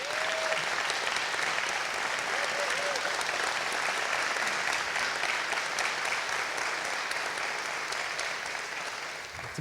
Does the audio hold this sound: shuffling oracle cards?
no